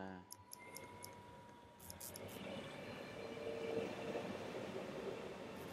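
Trains at a station in a video game rumble in a low, continuous roll that swells slightly, with a few light clicks early on and no talk.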